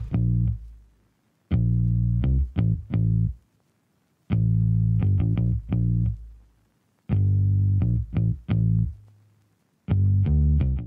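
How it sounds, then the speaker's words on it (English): A Rickenbacker electric bass guitar plays a bouncy riff of short, punchy notes in phrases separated by brief pauses, with a slightly effected, distorted, EQ'd tone and no talking. "Finally, I have this bass. This is uh, the Rickenbacker bass, and it sounds like this."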